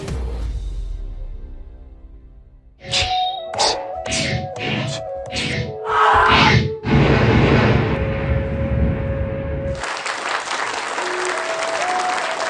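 Enthusiastic applause from an audience breaks out after a stage show, a burst of loud clapping that swells and continues, with scattered sharp claps over a dense crowd wash.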